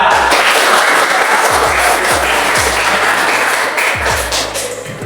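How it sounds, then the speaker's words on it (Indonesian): Students in a classroom clap together for themselves, a loud, dense burst of many hands with a few sharp thuds mixed in, tapering slightly toward the end. "silakan tepuk tangan untuk kalian"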